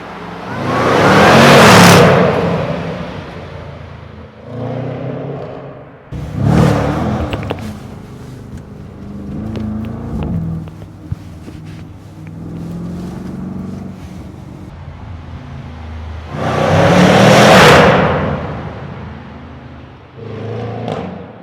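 Supercharged 5.0-liter V8 in a 2024 Jaguar F-Pace SVR performance SUV, revving in several loud bursts: a sharp roar at the start, a rise in the middle, and another big blip near the end, with quieter rumbling between them.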